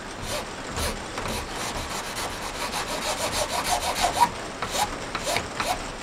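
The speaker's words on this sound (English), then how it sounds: "I'm just using my trusty Opinel knife that I've had for years just to" An Opinel knife shaving wood, giving a steady stream of close, dry scraping strokes in a quick repeated rhythm with no talk.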